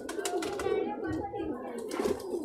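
A golden pigeon with fine feather shafts and a slender breastbone coos softly and repeatedly, close by, underneath steady talking.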